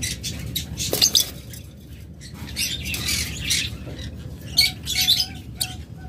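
Pet lovebirds and cockatiels in a cage give repeated sharp squawks and chirps, bursting irregularly over a steady low background hum.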